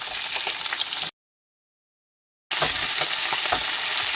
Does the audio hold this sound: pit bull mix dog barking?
no